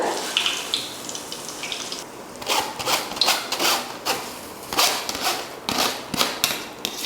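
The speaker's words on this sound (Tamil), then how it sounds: "நல்லா பூண்டு வந்து மொறுமொறுப்பாக வர வரைக்கும் வறுத்துக்கோங்க." Crushed garlic fries in hot oil with a steady crackling sizzle, marked by bursts of sharp popping spatters; no voices are heard.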